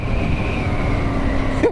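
A Benelli Leoncino 800 motorcycle accelerating on a test ride, its engine giving a steady, loud drone with a rising tone over wind rush, ending in a brief bump.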